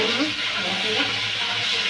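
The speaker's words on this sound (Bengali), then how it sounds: "আদা রসুন আমি কষাই" Ginger-garlic paste fries in a pan for a vegetable curry of potato and eggplant, giving a steady, close, broadband sizzle that runs unbroken for two seconds with no talk over it.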